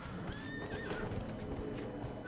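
Horse sounds from the video game Dragon Age: Inquisition: hooves clip-clopping along with a whinnying neigh, fairly quiet and steady, no talking.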